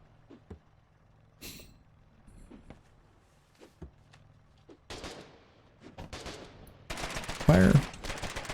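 Foxhole war game combat with sparse isolated shots early on, then a thickening rattle of rapid gunfire building into a loud, dense burst near the end.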